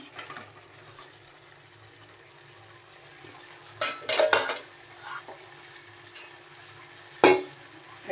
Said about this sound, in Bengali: এবার আলুগুলো ঢেলে দিলাম